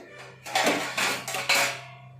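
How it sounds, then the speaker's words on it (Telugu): A metal lid clanks onto a cooking pot of ridge gourds with a few close, bright clatters and rattles over about a second before settling, over a low steady hum. "ఇప్పుడు మూత పెట్టేస్తే"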